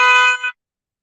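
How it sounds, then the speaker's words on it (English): A car horn honks on a New York street: a single loud, flat blast lasting about half a second with a slight dip near its end, then abrupt silence. "Somebody is always honking for something"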